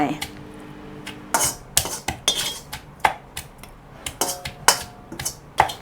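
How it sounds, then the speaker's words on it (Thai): A pestle pounds shallots and garlic coarsely in a mortar, giving a quick irregular series of sharp knocks and clinks, close and loud, with brief vocal sounds between some strikes. "หอมกระเทียมตำนะคะตำหยาบๆนะคะ"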